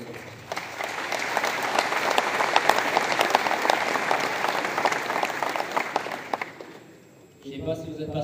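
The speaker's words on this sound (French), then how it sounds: "tout le monde peut s'applaudir d'avoir réussi quelque chose comme ça" An audience at a Belgian milk strike meeting in Ciney applauds in a dense, steady burst of clapping that lasts several seconds, then dies away into a voice.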